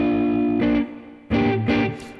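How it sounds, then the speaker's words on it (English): Distorted electric guitar through a Fender Deluxe amp playing a blues riff, a sustained chord then three sharp strummed hits, loud and close with no talking. "I'm using a Fender Deluxe amp with some distortion"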